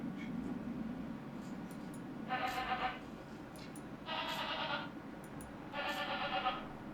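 Three short bursts of goat-like bleating in a bright, tuneful pattern from the video game Anno 1800, each about half a second long, spaced evenly over a steady low background hum.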